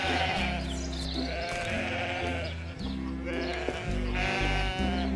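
Several sheep bleat repeatedly and loudly, their wavering calls overlapping in a close, busy chorus with no talking.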